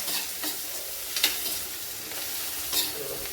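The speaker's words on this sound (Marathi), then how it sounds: "हे सगळं साहित्य फोडणी मिक्स करून घ्यायचं आहे" Coriander and spices being stirred into sizzling hot oil tempering, a soft steady sizzle broken by a few spoon scrapes and stirring swishes, close by and without speech.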